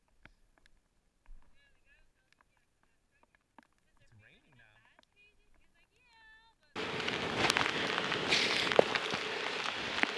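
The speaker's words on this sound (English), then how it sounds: "It's windy and it's rainy." Wind roars and rain patters loudly outdoors on the coast at Morro Bay, a sudden wash of noise after quiet, faint sounds, continuing steadily.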